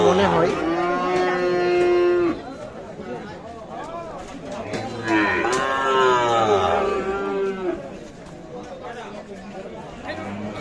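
A Sahiwal bull calf moos loudly several times, long drawn-out calls over a busy crowd murmuring close by at a livestock market.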